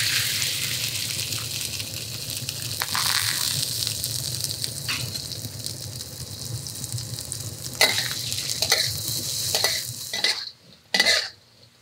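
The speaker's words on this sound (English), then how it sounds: "Alright, the toro roots are stir fried to a nice light golden brown." Taro roots stir-fry in oil in a wok, a steady close sizzle with scattered clanks and scrapes of the spatula, ending in a few sharp metallic knocks as the hiss drops away.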